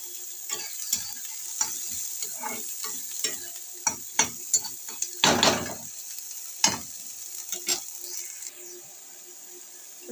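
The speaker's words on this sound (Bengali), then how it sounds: "পেঁয়াজ রসুনের মধ্যে আমি এবার বেগুনটা দিয়ে দেবো," Eggplant frying in a pan with onion and garlic, a steady close sizzle broken by repeated clinks and scrapes of stirring, with one louder burst of spitting oil midway.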